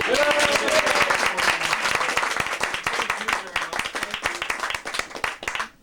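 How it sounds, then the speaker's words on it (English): An audience at a magic show applauds warmly and continuously, dense clapping that gradually thins out and stops. "Can I have a round of applause for my 2 wonderful"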